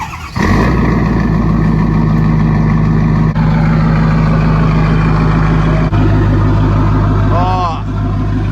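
A dually pickup truck's engine cranks and catches after sitting for six months, then settles into a loud, steady, throbbing idle close by. A brief voice comes through near the end.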